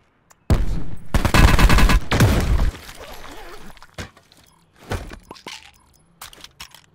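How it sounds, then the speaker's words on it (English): Gunfire in a Call of Duty Blackout match rattles in a close, dense burst of rapid shots lasting about two seconds, followed by scattered fainter pops and clatter. "Did I hear somebody shooting up here"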